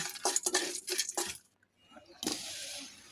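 Dry chili, cinnamon, cardamom and fenugreek frying in a pan for a chalta achar, heard as close clattering and scraping of a utensil against cookware in short bursts, a brief pause, then a steadier hiss with more scraping.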